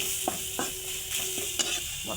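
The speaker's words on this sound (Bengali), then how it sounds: "একসঙ্গে এগুলো দিয়ে একটু মশলাটা কষিয়ে নেব" Turmeric, Kashmiri chili powder, ginger powder and cumin powder sautéing in oil, a steady hiss of frying under several short scraping stirs of a spoon, close and alone.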